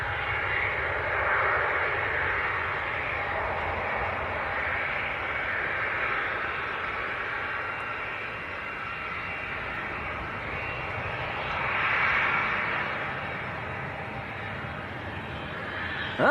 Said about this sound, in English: And BizJet time, I never even saw this one taxiing across.